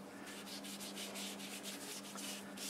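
Cloth wiping sanding sealer onto a turned cherry wood piece on a lathe, a steady close rubbing hiss with rhythmic sweeping pulses over a constant motor hum.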